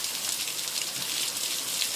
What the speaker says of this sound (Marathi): पावसाच्या हलक्या सरी कोसळू लागल्या